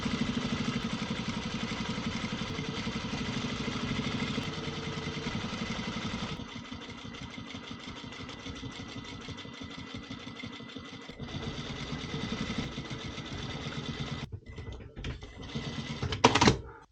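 An overlock sewing machine with differential feed stitches a seam on a waterproof softshell jacket, running in a steady mechanical whir that stops briefly and restarts with a few short bursts near the end.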